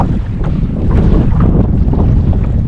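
Strong wind off the water buffets the microphone on a Florida beach at Cape San Blas, a loud, steady roar with the rumble of surf beneath it and no talk.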